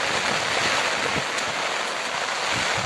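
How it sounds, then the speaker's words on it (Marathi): Continuous heavy rain on a monsoon day falls in a steady, even wash of broadband hiss, close and unbroken throughout, with no talking. "तर ही पाऊस चालू आहे"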